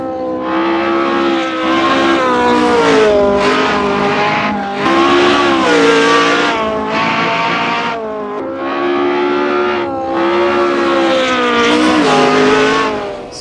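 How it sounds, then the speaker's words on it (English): A Lotus 49 vintage Formula One race car in a racing video game, its engine loud and close, revving up and down through gear changes in smooth repeated sweeps with no talk. "you can take an old school car like this Lotus 49"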